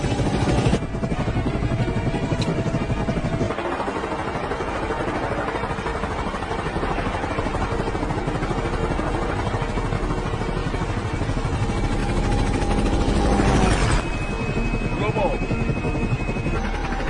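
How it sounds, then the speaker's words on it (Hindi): An aircraft flies just after takeoff with a loud, constant engine and rotor roar throughout, steady and close, with a pitch shift partway through while voices talk over it. "हमने उड़ान भर ली है।"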